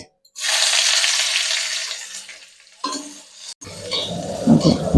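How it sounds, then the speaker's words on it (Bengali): Onions with dried red chillies hit hot oil as tempering for a masoor dal with bottle gourd, a loud hissing sizzle that fades, then breaks off into clattering, stirring noises near the end. "পেঁয়াজটা লাল লাল হয়নি ততক্ষণ আমি ভাজতে থাকি"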